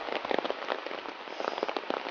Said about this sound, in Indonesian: Ini hujan temani deras pisan, sahabat.